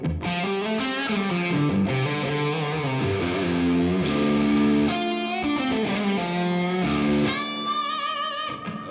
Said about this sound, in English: we do have the Wampler ethereal delay and reverb running through the effects loop